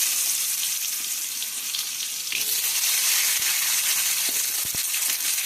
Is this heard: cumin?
yes